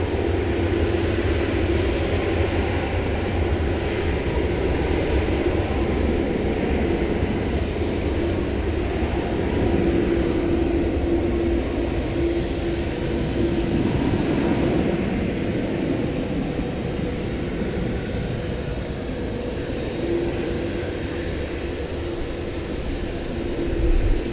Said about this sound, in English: looking at this plane as it traverses the taxiways, it would appear that we're going to get a west side takeoff for this tri-holer